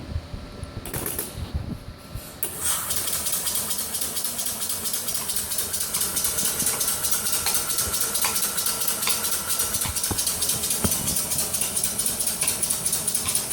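A benchtop hybrid engine runs steadily at low speed, around 150 RPM, giving a continuous mechanical whir with rapid ticking and clattering that holds constant after a brief quieter start.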